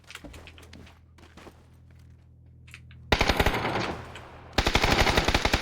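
Automatic gunfire in PUBG coming from behind, with two loud sustained bursts of rapid shots after a quieter stretch of scattered clatter and footsteps.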